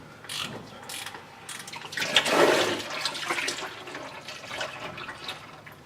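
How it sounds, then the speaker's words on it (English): Transfer case fluid drains from a Ford F-series truck into a pan, giving a soft steady liquid trickle and splatter that swells briefly in the middle and then settles, moderately quiet, with no talking. "So now we need to wait until all the transfer case fluid dribbles out."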